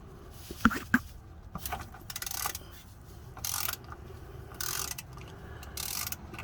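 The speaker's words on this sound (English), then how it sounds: "you get your socket wrench and you start loosening the drain plug" A socket wrench loosening a car's oil drain plug, giving a few sharp ratcheting clicks early on, then intermittent scraping and rattling bursts, fairly faint and close with no talk.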